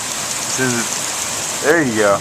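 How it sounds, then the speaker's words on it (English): Heavy rain pours steadily during a storm with strong winds and lightning, a dense hiss filling the background while a person speaks briefly over it. "now the rain is coming down harder and stronger"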